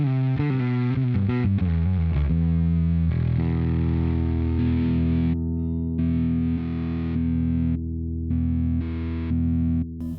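An instrument runs through a Darkglass Electronics Anagram effects unit on a distortion scene, with gritty, saturated sustained notes and a few quick picked phrases, loud and close, with no talking.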